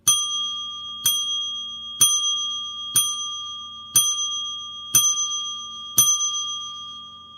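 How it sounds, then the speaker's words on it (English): A bell rung seven times at steady one-second intervals, each bright metallic strike ringing out and decaying before the next, clear and close with no talking. "I'm going to ring the bell for you"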